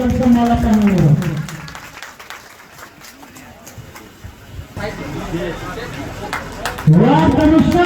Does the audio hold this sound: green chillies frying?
no